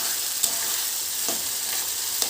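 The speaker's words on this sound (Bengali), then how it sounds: "মশলাটা একটু ভাজতে দিচ্ছি" Spice masala frying in a pan, a steady close hiss and sizzle with a few faint stirring scrapes and no voices.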